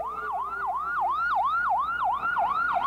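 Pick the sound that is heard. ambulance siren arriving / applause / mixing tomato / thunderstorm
ambulance siren arriving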